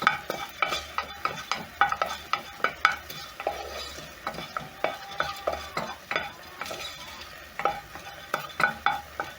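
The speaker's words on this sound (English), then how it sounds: "I'm going to toast for around 1 minute until the spices for my rice are very flavorful" Whole spices toasting in a hot pan for biryani rice, a soft sizzle under repeated sharp scrapes and clinks of a utensil stirring at an irregular rhythm, close and fairly quiet.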